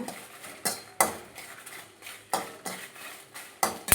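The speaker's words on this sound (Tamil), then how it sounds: "இப்போ நம்ம 15 மிளகாய் எடுத்த வரமிளகாய் எடுத்து கொட்டி வறுத்துக்கணும்" Fifteen dried red chilies being lightly roasted and stirred in a pan, heard as sharp, repeated metallic scrapes and clanks of a spoon against the pan at an uneven pace, with quiet gaps between strokes.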